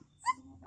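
A dog gives a short, quiet whimper and a brief high yip while being bathed with water and shampoo, the cry rising in pitch and fading, then another whine starting at the end.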